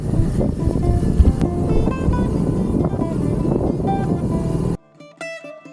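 A cheap, roughly $740 BMW motorcycle rides along a familiar road, its engine and wind roar steady and loud for most of the stretch before dropping abruptly to a quieter, tonal passage near the end.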